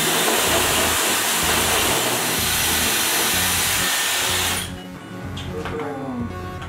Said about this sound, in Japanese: 自然乾燥したらちょっと乾かしますよ